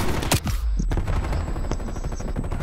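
Rapid bursts of automatic gunfire from a Call of Duty match, loud and close, with sharp shots crowding together before a denser, sustained stretch of firing.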